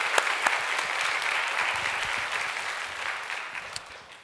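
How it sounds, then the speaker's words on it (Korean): A church congregation at a Sunday worship service claps in encouragement for members leaving on a mission trip, producing steady, full applause with a few sharper individual claps near the start, gradually tapering off. "다시 한번 우리 격려 그리고 승리하고 돌아오라고 박수 한번 쳐주시기 바랍니다."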